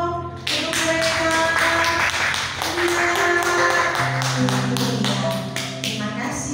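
Children clapping during a virtual grade 6 farewell ceremony at a Christian elementary school, with a run of sharp, evenly paced claps over sustained tones and some voice.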